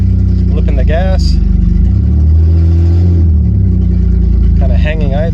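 A Dodge Caravan engine revs up and settles as the throttle is flipped, its idle hanging and surging slightly, loud and close, with someone talking over it at start and end.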